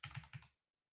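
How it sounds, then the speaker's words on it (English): Quick keystrokes on a computer keyboard come in three short, close clicking bursts, then stop and leave silence. "Excuse my typing, guys."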